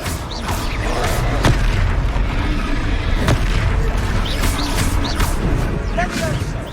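A Confringo fire spell in the Hogwarts Legacy video game bursts with heavy booms amid the clatter of a duel, several sharp impacts and crackling hits over a dense, constant battle din, with characters shouting.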